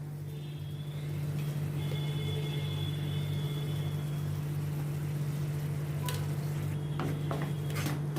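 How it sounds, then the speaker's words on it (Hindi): A spoon scrapes and stirs a leftover bread mixture with onion and spices in a pan, a steady sizzling hiss over a low constant hum, with a few sharper scraping strokes toward the end. "इसको भी अच्छी तरह से मैं प्याज और मसालों के साथ मिक्स करती हूँ।"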